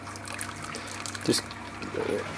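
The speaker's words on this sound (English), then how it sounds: "this is my Sparge water in my urn" Sparge water from an urn trickles quietly and steadily during homebrewing, a faint continuous dribble with a small splash or two near the end.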